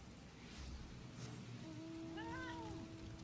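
A cat in the video game Final Fantasy XIV gives one faint, drawn-out meow over a steady low background hum.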